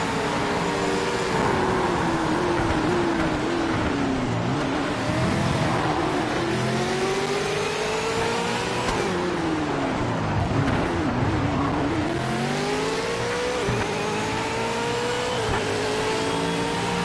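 Ford and Holden V8 Supercars roar around a track in the racing game Project Motor Racing, engines revving high and dropping through gear shifts in repeated sweeping rises, loud and continuous without talk.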